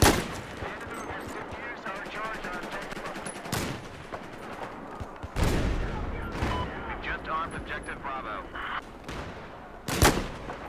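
Incoming gunfire in Battlefield 4, bursts of rapid shots and sharp cracks scattered across the stretch, some close and loud, others more distant, with a voice talking over parts of it.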